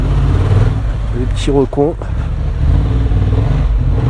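A Honda Hornet CB 750 motorcycle engine hums steadily while riding slowly through town, a close mid-pitched drone with a brief dip in level, under a voice speaking from the saddle.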